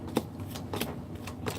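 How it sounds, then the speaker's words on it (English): A deck of tarot cards is shuffled by hand, a quick run of about five papery riffling bursts in a steady rhythm, close and fairly loud, with no talking. "I'm shuffling, man."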